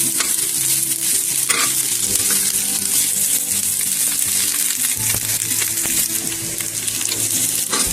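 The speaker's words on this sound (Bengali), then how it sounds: "তারপর দিয়ে দিব একটা তেজপাতা, তারপর দিব পেঁয়াজ কুচি, একটু নেড়ে নেব, পেঁয়াজটাকে একটু ব্রাউন কালার করে নেব।" Chopped onions and a bay leaf fry in oil for an oats khichuri, stirred the whole time, a loud, dense crackle with continuous scraping close up and no voices.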